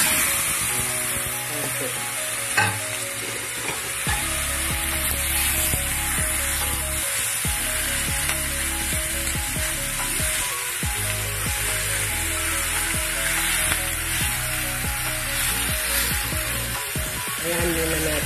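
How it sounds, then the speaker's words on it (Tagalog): One kilo of pork sizzling and frying in a hot pan for pork humba, a steady dense crackle throughout with brief clinks and a short spoken word over it. "Ipa-fry muna natin siya"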